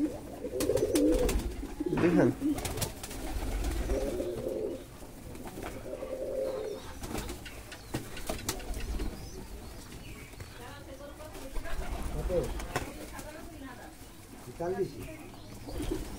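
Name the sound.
pigeons cooing while eating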